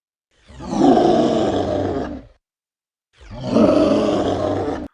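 Two long, heavily compressed roars, each about two seconds with a silent gap between, loud and dense, sustained at a near-constant level before cutting off.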